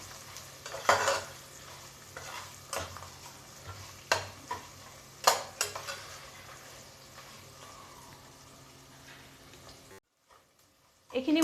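Sambar ingredients fry quietly in a pan, broken by sharp stirring scrapes and clinks of a spoon against metal, then a brief silence before the cooking noise returns.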